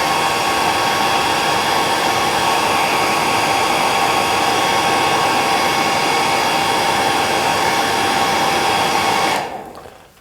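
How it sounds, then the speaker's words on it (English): A hair dryer blows steadily through a freshly tied midge fly, a loud, close, unbroken roar that cuts off sharply near the end. "I like to blow the hairdryer through it just to get a shape."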